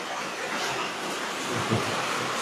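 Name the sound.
rain starting to fall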